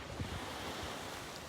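Ocean waves wash in at Turtle Beach, a steady, soft rushing surf with wind noise on the microphone, faint and continuous with no talk.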